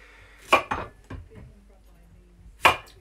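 A knife chops through a courgette on a board in a home kitchen, topping, tailing and cutting it into three sections, giving a few sharp, close thuds spaced apart with quiet gaps between.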